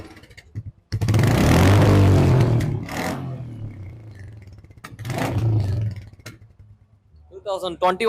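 A used motorcycle engine, an inexpensive second-hand bike for sale, revs hard in two loud bursts that swell and fall back to idle, with brief speech at the start and end.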